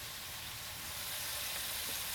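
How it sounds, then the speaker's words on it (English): Mustard-coated chicken wings fry in oil heated to 375 degrees, giving a steady, close sizzling hiss that swells slightly and runs unbroken with no speech. "And it's frying up real good."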